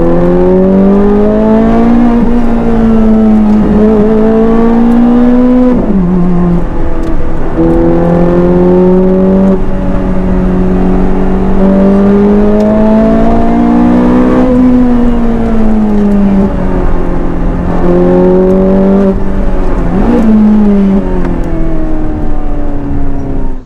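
A Fiat Abarth 695 engine drones steadily throughout, its pitch rising and falling as the driver accelerates and shifts gears, loud and close with no talking.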